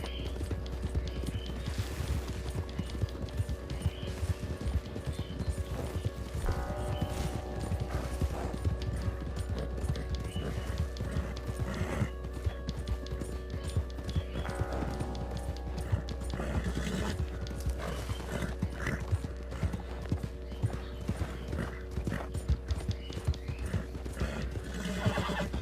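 Horse galloping in Red Dead Redemption 2 online mode, with rapid, continuous hoofbeats running close throughout and repeated neighs and whinnies over a low steady hum.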